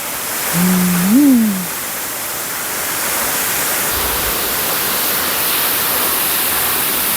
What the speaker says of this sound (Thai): น้ำไหลครับพี่น้อง